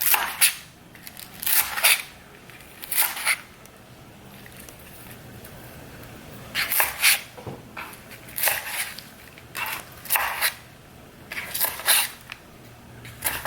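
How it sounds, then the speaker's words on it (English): A knife chops garlic chives on a cutting board, crisp crunching cuts in irregular bursts of two or three strokes with short pauses, close and clear with no talking. "I'm going to cut my garlic chives to garnish on top of my bowl later"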